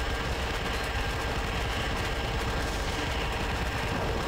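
Rapid, continuous laser minigun fire in the space game Empyrion, a dense unbroken barrage held loud and steady for several seconds with no talking.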